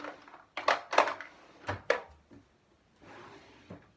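Several wooden drawer knocks and slides sound close by in irregular bursts, with a few sharp thunks while a makeup drawer is opened, shut and sorted, then a softer rubbing scrape near the end.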